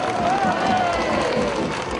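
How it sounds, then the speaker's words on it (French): Outdoor crowd at a Pentecost festival crowning in Moissac applauding steadily, a dense wash of clapping with some cheering throughout, fairly close and loud. "je vous demande de les applaudir très fort"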